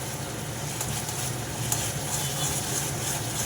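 Young jackfruit curry sautés in a pan with a dense, steady sizzle and faint scraping of stirring, close and continuous throughout.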